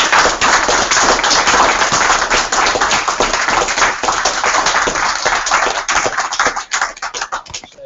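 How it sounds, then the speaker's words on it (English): An audience applauds Professor Davies after a talk on government finances at Ithaca College, loud close clapping with many sharp individual claps, continuous for several seconds before thinning out toward the end. "let's give him another audible round of applause"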